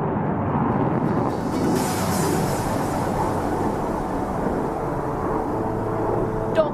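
A Su-30 MKI jet in the DCS flight simulator, flying a low-speed turn display modelled on Aero India 2021, gives a loud, steady, broadband roar that fills the whole stretch without talk.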